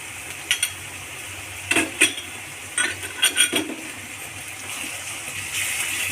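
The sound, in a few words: stirring ginger garlic paste into potato mutton curry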